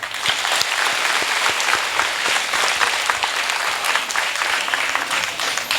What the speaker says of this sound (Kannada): ಎಸ್ ಆರ್ ನಾಯ್ಕು ಅವ್ರಿಗೊಂದು ಜೋರ ಚಪ್ಪಾಳೆ ಹೊಡೀರಿ